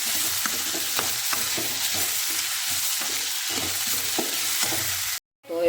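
Potatoes and onions cooking in a pan with salt, a constant close sizzle with a regular rhythm of spoon stirring and scraping, cutting out abruptly near the end, no talk.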